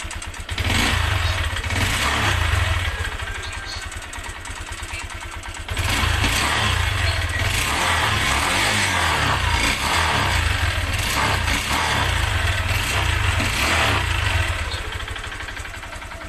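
A faulty motorcycle engine revs up and settles repeatedly, loud and close, with a rapid ticking rattle coming from inside the engine.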